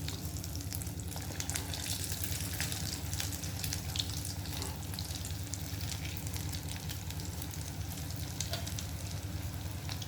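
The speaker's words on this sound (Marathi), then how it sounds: "बारीक गॅसवरच हे तळून घ्यायचे आहे" Steady low sizzle of batti dough frying in a little ghee over a low gas flame, a continuous even crackle that stays close and constant throughout without any voices.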